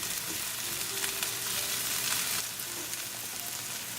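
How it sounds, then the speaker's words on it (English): Onions sauté in a tadka for red lentil dal, giving a steady, close frying sizzle with a bright hiss that runs evenly throughout without talking. "We're going to saute our onion until they become translucent"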